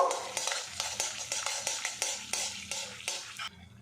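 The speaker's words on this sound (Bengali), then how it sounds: "তেলটা গরম হয়ে গেছে এর মধ্যে দিয়ে দেবো এক টুকরো ডালচিনি দিয়ে দেবো এক টুকরো এলাচ মুখটা ফাটিয়ে নিয়েছি এবারে দিয়ে দেবো একটা তেজপাতা এগুলো ফোড়ন করে নেব" Cinnamon, cracked cardamom and a bay leaf hit hot oil for tempering. Quick rhythmic stirring taps and scrapes ring out over a light sizzle, and the sound stops near the end.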